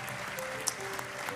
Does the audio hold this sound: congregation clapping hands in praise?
yes